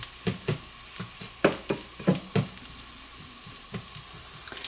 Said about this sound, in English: this is sauteing very nicely